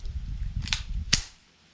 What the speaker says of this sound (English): this is a fun gun to shoot, and well, let's just demonstrate it